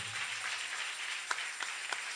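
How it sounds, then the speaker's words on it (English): Congregation applauding the praise and worship team at a church service, a steady wash of many hands clapping at moderate distance, with a few sharper claps standing out near the end. "Clap for them."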